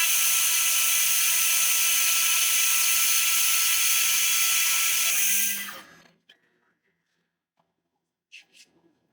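A 500-watt fiber laser cleans mill scale off steel with a loud, steady high-pitched buzzing whine for several seconds, then cuts off abruptly into near silence broken by a few faint clicks.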